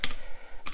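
A few quick keystrokes on a computer keyboard as a command is typed into a Linux terminal, a short close burst of clicks at the start and again at the end with a brief pause between.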